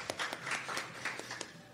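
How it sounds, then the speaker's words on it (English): Sparse, scattered claps from a small audience greet two hockey players, a brief, quiet round of a few distinct hand claps close by. "Could we get a brief round of applause for these two guys up here?"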